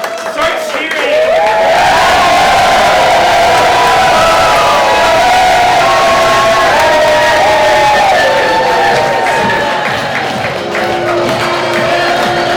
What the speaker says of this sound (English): You all, the audience watching this pep rally, start cheering.